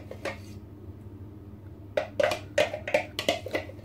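Homemade chili sauce mixture being poured out of a container, a couple of soft knocks followed by a cluster of sharp clinks and taps against dishes and utensils.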